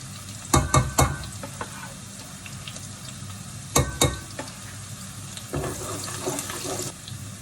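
Garlic added to a pan of cooked onion frying for chicken biryani, crackling and sizzling steadily, with a few sharp clatters of a utensil stirring near the start and middle, close and moderately loud, no voices.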